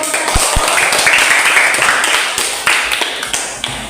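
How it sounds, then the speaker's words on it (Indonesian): A small group applauds, a dense patter of claps lasting several seconds and fading slightly toward the end. "Tepuk tangan dulu untuk kelompok 1."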